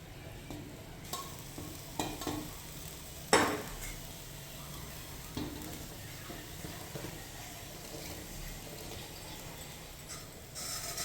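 Sweet pongal (sakkarai pongal) bubbling in a pot while a spoon stirs it, soft steady simmer with intermittent metal scrapes and clinks against the vessel, one sharper knock partway through.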